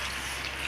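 Water is poured over drained homemade rasgulla cheese (chenna) to rinse off the lemon sourness, giving a steady, soft broadband splash and trickle throughout with no talk.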